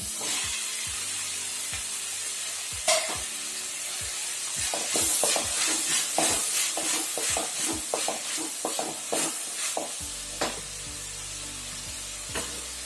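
Tomato with salt frying in a pan for butter chicken, a soft sizzle broken by a run of sharp spatula taps and scrapes, close up and free of speech.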